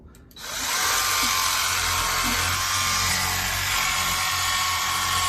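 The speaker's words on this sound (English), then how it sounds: "So let's take it to the fillet table and start filleting some fish." A cordless electric fillet knife whines steadily and loudly as it cuts along the backbone of white grunt fish at a fillet table, starting abruptly and running continuously without talk.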